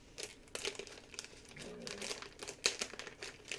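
A crinkly plastic Warheads sour snack wrapper is handled and snipped open, producing close, soft crumpling and crackling throughout with a sharper snip near the middle.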